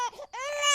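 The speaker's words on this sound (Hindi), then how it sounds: "बच्चे की पहली रोने की आवाज गूंजी।" A newborn baby's first cry sounds as a short, loud wail in two quick bursts.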